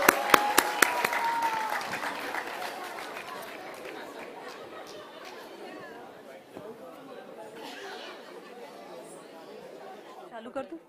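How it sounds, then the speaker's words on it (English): Applause at a foundation day celebration: a few sharp claps open, then a softer, scattered crowd clapping mixed with murmured chatter fades through the rest, rather faint and distant. "Let's give them a big round of applause"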